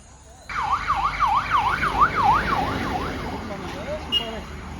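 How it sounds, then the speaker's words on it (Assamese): An ambulance siren wails in rapid rising-and-falling sweeps as it passes along a road near a truck accident, loud and close for about three seconds before fading, with traffic noise and a voice in the background. "এম্বুলেঞ্চো বহুত গৈছে, আকৌ পুলিচৰ গাড়ীও গৈছে এখন দুখন"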